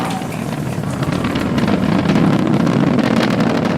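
SpaceX Falcon 9 first-stage rocket engines throttling down in flight, a steady, loud, broadband roar like rushing wind that builds slightly toward the end, continuous with no talking.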